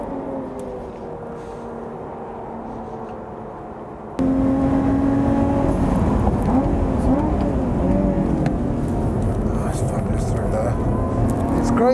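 Lotus Evora GT430 engine at full throttle on a race track, a steady loud drone that jumps louder partway through and holds, with rising harmonic pitch sweeps and speech over it.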